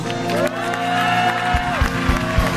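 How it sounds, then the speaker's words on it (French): Large stadium crowd at a Christian prayer gathering in Sylvio Cator Stadium cheering and whooping, a broad roar with rising shouts and a sustained tone over it, then clapping breaking through near the end. "Nous applaudissons très fort"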